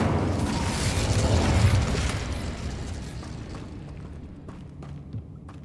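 An Incendio fire spell cast in the game Hogwarts Legacy: a loud, roaring burst of flame that swells over the first two seconds, then fades into a softer crackling tail with a few small pops.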